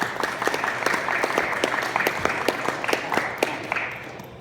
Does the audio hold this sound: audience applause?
yes